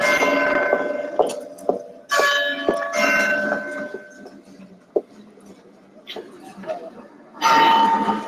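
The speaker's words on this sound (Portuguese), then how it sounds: "A presença dos sinos também." Bells ring in a film scene, with several loud clanging strikes and ringing tones that swell and fade over a busy background, followed by a burst of bright ringing at the end.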